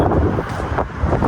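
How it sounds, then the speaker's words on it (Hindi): Cold wind blowing outdoors on a chilly night, a steady broadband rush buffeting the microphone with gusty swells, no voices. "ठंडी ठार हवा चल रही है"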